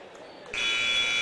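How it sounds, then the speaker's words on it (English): A basketball game clock buzzer ends halftime with a loud, steady electronic tone that starts partway through and holds to the end, over gym crowd murmur. "About 10 seconds away, you'll hear the buzzer"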